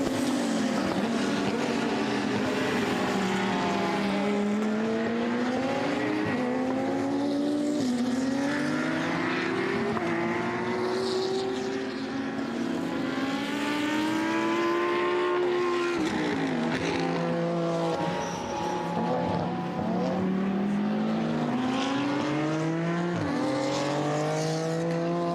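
An Audi GT3 race car from Fulin Racing roars around the Most circuit during an endurance race, its engine note rising and falling through gear changes over about 25 seconds, loud and continuous amid other cars.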